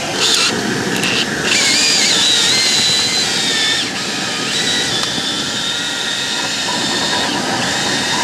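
A loud power drill spins dryer vent brush rods continuously, its motor pitch wavering with brief scraping and rattling as the spinning rods rub inside a dryer vent duct.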